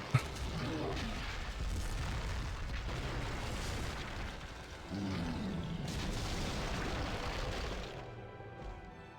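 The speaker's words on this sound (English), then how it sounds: "let's get the Earth Barrage going" Earth Barrage attack in the video game LOTR: The Third Age, a sustained rumbling barrage of booms and crashing impacts, loud and dense, that cuts off near the end.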